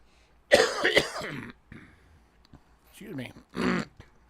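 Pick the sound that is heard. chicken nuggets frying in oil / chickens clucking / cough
cough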